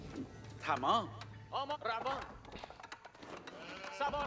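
Sheep bleat in the Age of Empires strategy game, several wavering bleats in quick succession near the start, followed by other faint game sounds and clicks.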